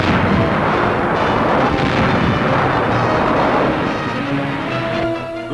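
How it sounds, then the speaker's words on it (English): Explosive battle noise from grenades during mop-up fighting against Japanese holdouts on Okinawa in the Ryukyu Islands, a dense, sustained roar of blasts and gunfire rumbling loudly and continuously throughout, with no speech. "Grenades bring a Japanese out of the brush."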